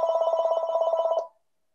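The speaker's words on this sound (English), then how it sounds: "That's my phone. Hold on." A telephone rings with a rapid, regular electronic trill lasting just over a second before cutting off abruptly, loud and alone with no talking.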